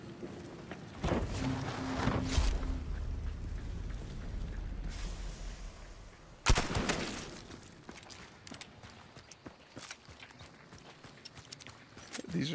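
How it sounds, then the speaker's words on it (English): Unsilenced gunshots firing subsonic bullets in the video game Hunt: Showdown 1896 on PS5, with a few loud sharp cracks and echoing tails scattered among movement and ambient game noise, no speech. "These are subsonic bullets. They definitely don't sound like it. It's because you're not shooting with the silencer."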